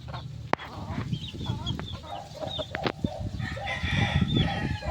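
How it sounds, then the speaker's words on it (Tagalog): Hens and a rooster on a backyard farm cluck repeatedly in an irregular, overlapping chatter, with a couple of sharp crow-like calls rising above a steady, busy din of nearby fowl. "Parang kumakakak na naman."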